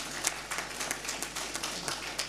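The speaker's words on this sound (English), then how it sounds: "So if I can just have one big round of applause for our panelists, just to give them encouragement." Audience applause for panelists at an annual meeting and panel session, a steady wash of many hands clapping at moderate level with scattered sharper claps, heard alone without talk.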